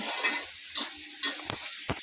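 Rice is stirred and fried with browned chopped onions in a small pan, with a soft sizzle under a few quick, distinct scraping strokes of the spoon against the metal.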